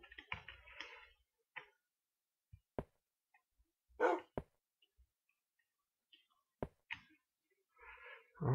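A dog barks in a video game, giving a few short, sharp barks spaced apart, mixed with brief clicks and quiet gaps and no continuous background.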